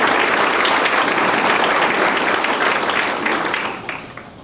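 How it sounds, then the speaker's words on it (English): A banquet crowd applauds the basketball booster club officers with dense, sustained clapping that holds loud and steady before tapering off near the end. "Please give them a round of applause for their efforts."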